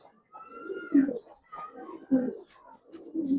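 A black-throated pair of Giribaz pigeons coos close by, several soft, throaty coos in a short rhythmic series with brief pauses between.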